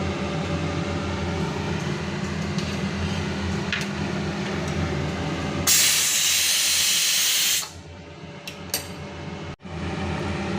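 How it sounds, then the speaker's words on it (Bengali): Steam hissing out of a cooking pot on a home kitchen stove after the gas is turned off, a loud burst of bright hiss lasting about two seconds before cutting out, with quieter kitchen noise before and after. "গ্যাসটা বন্ধ করে দেব এবং ভেপারটা বের করে দেব"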